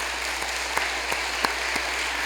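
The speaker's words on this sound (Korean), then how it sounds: "한번 박수합시다." A church congregation applauding during an Easter service, a soft steady patter of clapping with a few sharper claps standing out, fairly distant and even throughout.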